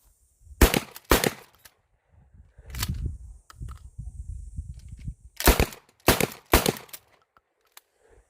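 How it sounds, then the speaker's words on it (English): Slam-fire shotgun firing rapidly during an accuracy test, sharp loud blasts in quick pairs and clusters, with rattling pump action and handling noise between shots. "it's an accuracy test, so I should be slow firing it, but it's a Slamfire shotgun"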